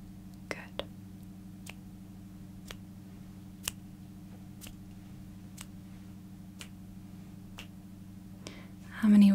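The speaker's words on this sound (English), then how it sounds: "Now I'm going to make a few clicking sounds with my fingers." A series of sharp, isolated finger clicks, about a dozen spaced irregularly in close, quiet surroundings over a low hum, ending with a brief louder murmur.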